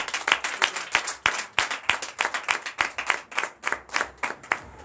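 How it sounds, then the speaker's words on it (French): A church congregation clapping in a steady rhythm at a Sunday service, a dense run of sharp hand claps that is fairly close and moderate in level. "Donnez de vives acclamations à notre sœur."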